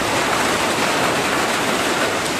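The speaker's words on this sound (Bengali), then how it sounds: "তো এই যে বৃষ্টি শুরু হয়ে গেল" Steady rain falls outdoors in a rural paddy-farming area, a dense unbroken hiss that stays loud and even throughout with no voices.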